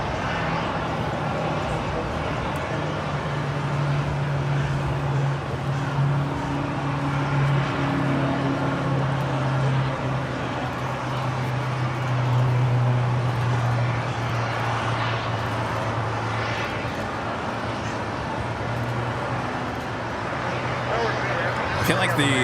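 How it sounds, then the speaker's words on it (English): An Emirates Airbus A380 taxis at LAX, its jet engines making a continuous loud drone with a steady low hum throughout. "the Emirates A380 now making his way over here to the south side"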